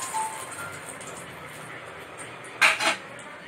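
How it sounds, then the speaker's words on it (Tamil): Mustard seeds spluttering in hot oil while making rasam: a steady, faint frying hiss with two brief metallic clinks near the end. "கடுகு நல்லா பொரிஞ்சு வருது."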